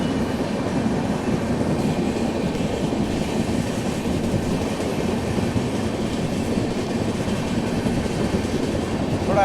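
Andhra Pradesh Express train running along the track, a steady loud rumble of wheels and rolling carriages with faint clatter, continuous and close, no talking.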